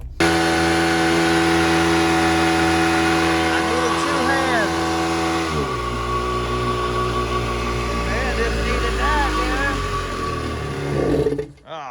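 A Kawasaki SC650 motorcycle with a swapped-in 750 engine runs loud and close, with rising and falling revs and a drop in pitch partway through, while a voice talks over it.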